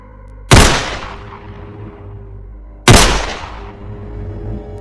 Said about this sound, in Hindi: तीनों बातें कर ही रहे थे कि अचानक गोली की आवाज सुनाई देने लगी।